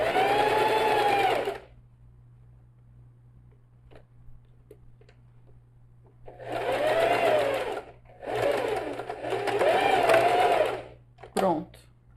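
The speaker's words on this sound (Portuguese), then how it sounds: "eu levanto o calcador e passo, depois volto a costurar" Sewing machine stitching a fabric pouch in several bursts of rapid, close mechanical whirring, with quiet pauses between runs and a faint hum underneath.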